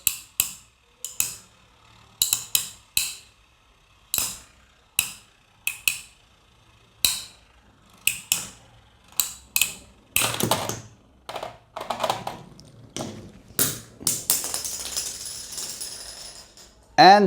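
Metal Fury Beyblade spinning tops, Phantom Orion and Fang Leone, launched and clashing in a stadium: a series of sharp, separate metallic clicks and snaps, followed by a denser run of rattling collisions near the end.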